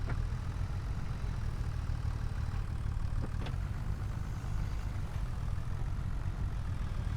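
A tractor fitted with a front loader idles in a farming and logging roleplay game, giving a steady, low, continuous engine rumble throughout with faint clicks and no voices.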